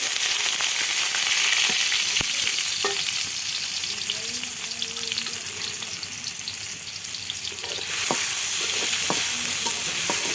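Onions fry loudly in a pan for a pointed gourd korma, giving a dense, continuous sizzle. Occasional stirring clicks and scrapes sit on top, up close with no voices.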